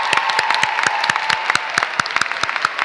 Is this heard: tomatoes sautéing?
no